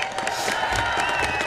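Audience at a Michigan gubernatorial inauguration applauding, a brief dense wash of clapping and cheering from a large crowd.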